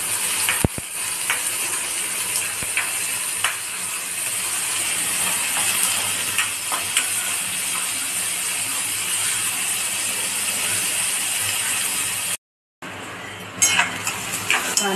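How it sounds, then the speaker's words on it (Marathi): Chopped onion sautéed and stirred in a hot pan for matki bhaji, a loud continuous hiss of frying broken by scattered clicks and scrapes of the spoon, briefly cutting out near the end. "कांदा जास्त नाही भरायचा, थोडासा मऊ होईपर्यंत भाजून घेऊया आपण"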